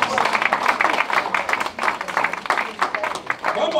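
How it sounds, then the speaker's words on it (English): Audience at a community gathering in Coldwater, Mississippi claps for a young man, a short burst of moderately loud, irregular clapping with overlapping hands. "Give him a round of applause."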